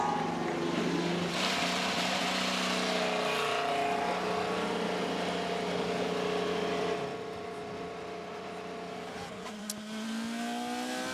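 IndyCar race cars with engines running at the start of the XPEL Grand Prix at Road America in Wisconsin, a loud sustained engine roar with rising and falling pitch that eases slightly near the end.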